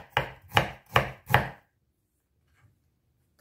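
Four crisp knife chops cut fresh ginger into thin julienne strips on a board, evenly spaced and close, then silence.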